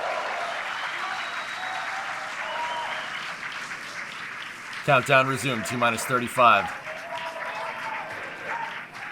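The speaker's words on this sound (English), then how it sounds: "The cheering sounds like the clock is running" A crowd watching the Starship second test flight cheers through the launch countdown, steady murmuring then loud excited whoops and shouts, with a countdown announcer speaking over it.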